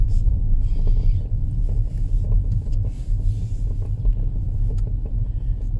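A car drives along a city street, its steady low engine and road rumble continuous and fairly loud throughout, with faint traffic hiss above and no talk.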